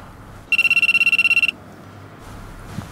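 A telephone rings in a single loud, rapid trilling burst lasting about a second, then stops, leaving a quiet room.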